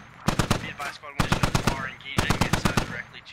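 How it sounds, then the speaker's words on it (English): Heavy machine gun bursts in the video game Squad, from an insurgent DShK firing at a minaret: three loud, rapid bursts of several sharp shots each, evenly spaced across a few seconds. "We see rounds going out on the minaret."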